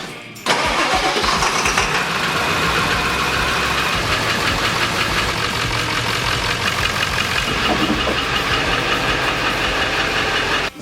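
A 1997 Ford 7.3 Powerstroke diesel in an OBS truck cranks and fires, then settles into a loud, steady clattering idle close by, running continuously without talk.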